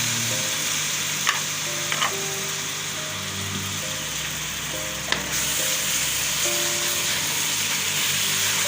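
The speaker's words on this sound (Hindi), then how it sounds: "टमाटर का पेस्ट शामिल कर रही हूँ" Tomato paste sizzling in a frying pan as it goes in for potato and fenugreek sabzi, with a steady, fairly loud frying hiss and a few sharp clicks of stirring, no voices.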